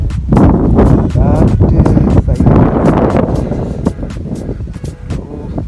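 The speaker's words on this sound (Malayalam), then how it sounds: "നല്ല കാറ്റാണ്, ഭയങ്കര കാറ്റാണ്." Strong desert wind sweeps over sand near Fujairah, a loud continuous buffeting roar with sharp gusty bursts battering the microphone, while a person speaks under it.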